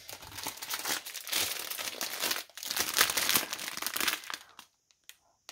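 A plastic bag from a Diamond Art Club mystery box crinkles loudly and continuously up close, crackling and rustling for several seconds before stopping abruptly, followed by a few faint clicks.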